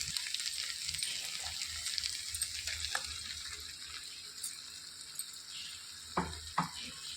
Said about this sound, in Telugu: ఈ టమాటా అనేది పచ్చివాసన పోయేంత వరకు వేయించుకోవాలండి.